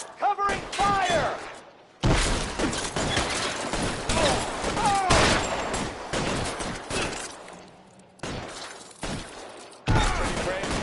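Gunfire in the L.A. Noire video game, with a dense run of shots and thuds over nearly eleven seconds that cuts off in several places, while shouted game dialogue plays over it.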